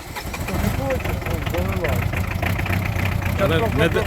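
The 2.5 turbo diesel engine of a pickup truck runs steadily at close range, a continuous low rumble under loud conversation between people nearby.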